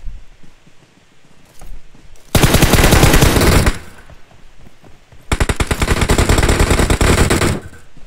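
Rapid automatic gunfire in a battle royale shooter, two long, dense bursts of closely spaced shots separated by a brief lull, loud and close, with faint scattered sounds between them.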